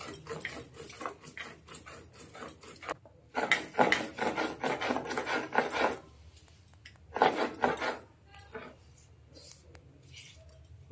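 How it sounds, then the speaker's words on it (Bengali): Spices ground by hand on a grinding stone, a close, repeated rasping scrape in bursts of back-and-forth strokes with short pauses between rounds. "মশলাটা একটু মিহি করে বাটা হয়ে গেল"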